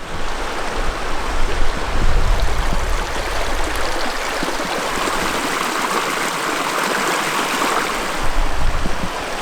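A river stream flows steadily nearby, a dense continuous rush of water with a slight swell early on, alone with no voices.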